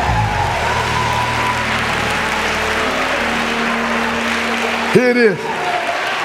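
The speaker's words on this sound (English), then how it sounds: "Now give God a hand clap of praise right there." A church congregation gives a sustained round of hand claps in praise during a sermon, a steady dense wash of clapping throughout, and someone speaks briefly near the end.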